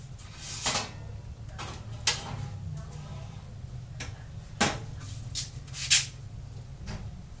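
An oven door is handled as a turkey pot pie made with canned turkey stew goes in to bake at 350: a few quiet, sharp clicks and knocks spread over several seconds in a calm kitchen.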